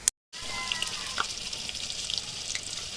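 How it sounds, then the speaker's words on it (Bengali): Papaya pieces fry in hot oil for a duck curry, giving a steady, soft sizzle and crackle after a brief silent gap at the start. "পেঁপেগুলো ভেজে নিয়েছি।"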